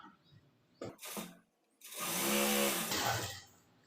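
A sewing machine stitches along the edge of a folded blouse button piece. Two short mechanical bursts are followed by a longer whirring run, all close but fairly quiet, with no talking.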